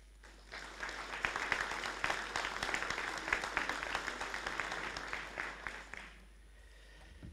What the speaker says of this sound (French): Je prierai d'applaudir, messieurs et mesdames.